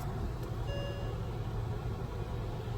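Tire pressure warning chime in a Mercedes W221 S550 4MATIC: a single short electronic tone that sounds once over the constant low rumble of the cabin blower.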